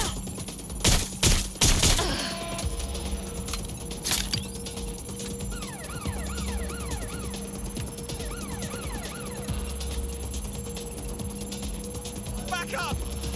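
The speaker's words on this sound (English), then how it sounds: "They're shooting!" Several sharp gunshots crack close together early on in Watch Dogs: Legion, followed by another lone shot, then a police siren wails steadily beneath the game ambience.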